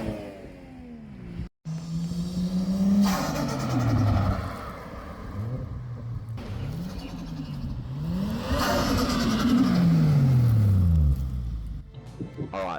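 A Toyota Crown drives past with a mid-pitched engine that revs up and down through several gear changes. The rumble is moderately loud with road and wind noise, starting after a brief cut and fading near the end.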